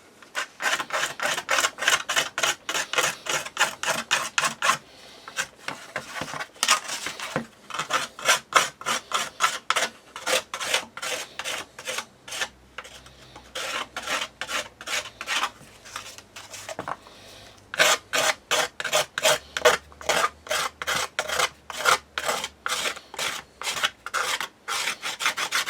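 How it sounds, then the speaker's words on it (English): A power sander smooths an airbox baseplate in a workshop, running as a steady series of close, loud rasping passes broken by short pauses, with no voices over it. "I'll give that a fettle up with a sander"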